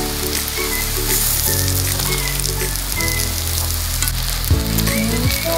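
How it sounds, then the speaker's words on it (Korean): Tofu slices pan-frying until golden brown sizzle steadily and loudly in hot oil, with a low continuous hum and occasional crackles and scrapes beneath the frying. "두부를 노릇노릇 구워줄게요."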